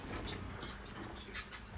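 Finches in an indoor bird room give short, high chirps and tweets, a few scattered calls at close range over a quiet background.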